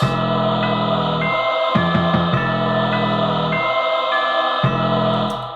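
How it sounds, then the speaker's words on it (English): Hip-hop beat layered with small bright bell tones ringing over sustained synth chords and a deep bass, with a stuttering rhythmic break midway, loud and without voices. "Little bells"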